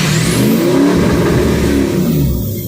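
A car engine revs hard and holds near the stock rev limiter, a loud, continuous, close-up roar with rising and falling pitch through its nearly three seconds, no talk over it.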